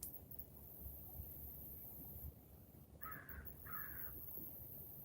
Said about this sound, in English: You hear that crow?